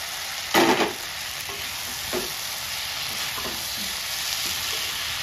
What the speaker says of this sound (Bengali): এবার আমি সব আলুগুলো দিয়ে দিচ্ছি।